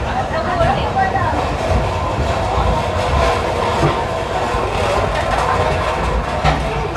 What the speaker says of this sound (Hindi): कोरापुट जंक्शन रेलवे स्टेशन रो प्लेटफार्म 5 रु डिपार्ट कर छे